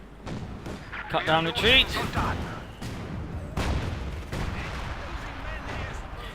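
Heavy gunfire crackles in a Company of Heroes 2 one-versus-one match between Soviet and German armies, with dense bursts and thuds rising and falling beneath a commentator's steady talk.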